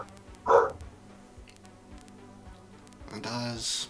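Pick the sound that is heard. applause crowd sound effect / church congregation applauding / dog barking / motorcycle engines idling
dog barking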